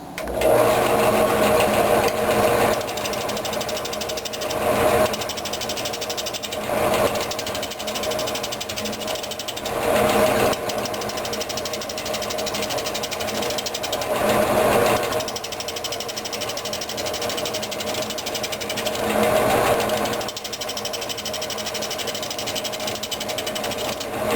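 A wood lathe roughs down a walnut lamp blank, a continuous motor drone with the gouge's rasping cuts swelling in repeated passes every few seconds, close and fairly loud.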